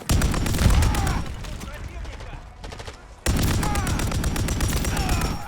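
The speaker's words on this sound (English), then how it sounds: "You pick up this loud ass LMG." Light machine gun fired in the Call of Duty: Modern Warfare III campaign, loud and close in rapid sustained bursts with a brief lull near the middle before heavy fire resumes.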